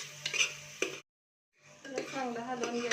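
A spoon stirs red chili powder masala in a pan for chole, with scraping and a soft sizzle; the sound drops out briefly midway, then the stirring resumes.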